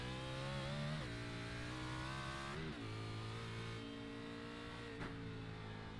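A race car engine in a virtual race at the Sonoma road course revs high and steady, dropping and climbing in pitch through downshifts and throttle changes, loud and continuous, with no voices.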